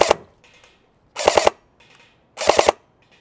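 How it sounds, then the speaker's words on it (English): An airsoft rifle fires three bursts of three rapid, close shots each, with quiet mechanical clicks from the gun between the bursts and no voices. "in full auto, we have a 3-round burst set up"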